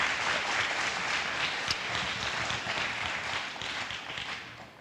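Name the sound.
audience applause at high school event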